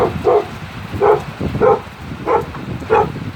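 A puppy barks five times in a steady, evenly spaced series, close by, over a faint patter of rain on a tin roof.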